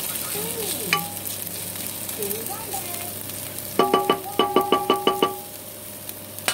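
Pinakbet with shrimp paste sautéing in a pan, a soft sizzle under a run of sharp metal taps from a utensil striking the pan, with a few scraping stirs between them.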